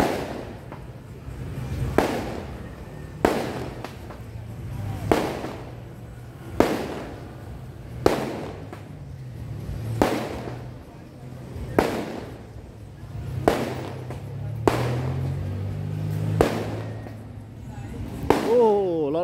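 Fireworks burst over a night market at Patong Beach, Phuket, Thailand: loud, evenly spaced bangs about every second and a half, a dozen or so in a row, with crowd voices murmuring underneath.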